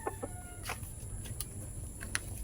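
A chicken clucks in short, soft bursts amid faint farmyard background, with a few brief higher calls scattered through.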